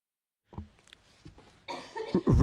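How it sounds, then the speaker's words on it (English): A single close cough after a moment of silence, followed by a few breathy throat noises and rougher coughing sounds toward the end. "Sorry, I'm going to cough."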